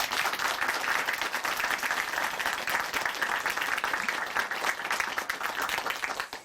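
Studio audience at a Korean Christian TV program clapping in sustained, dense applause that holds steady and then fades out at the end.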